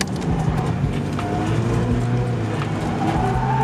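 Tires skid and scrub steadily as a Mazda Miata is thrown into a handbrake drift, a continuous loud rasping slide with engine drone underneath, close to the car and without talk.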